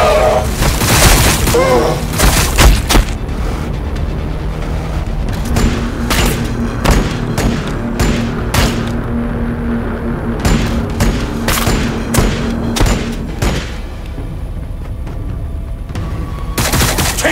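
Gunfire rattles in Warhammer 40,000: Battlesector as soldiers fight Tyranids, with repeated sharp shots and heavy booming impacts coming in irregular volleys throughout a long, loud battle sequence.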